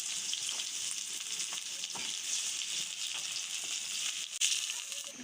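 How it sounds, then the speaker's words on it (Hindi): Onions sizzle and fry in hot ghee in a pan, a steady bright crackling hiss with occasional stirring scrapes, close up and without speech. "घी हमने ऐड कर दिया है, जिसमें ऐड कर देते हैं प्याज।"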